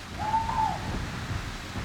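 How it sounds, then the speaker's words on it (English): A single hoot from an owl in the Discworld video game, a brief wavering tone heard once near the start and then fading into a low, noisy background. "Carnivorous owl."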